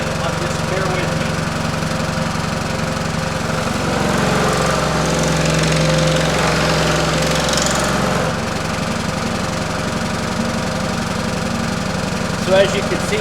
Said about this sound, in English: You will hear a rattling, but just bear with me.